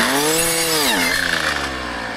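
A brushcutter's blade engine whines close by while cutting into a small tree, its pitch sagging under load midway and then steadying for a couple of seconds of continuous sawing with no talk.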